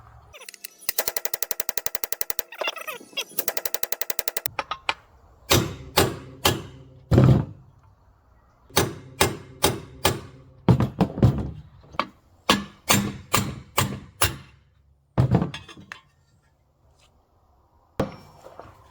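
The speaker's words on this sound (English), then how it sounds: "you punch the center of the fan pulley, not the fan side" Hammer blows punching the center of a Honda 600 cooling fan pulley to drive it off its bearing: an opening burst of rapid metallic rattling, then about twenty sharp, loud, separate strikes in irregular clusters, with no talking.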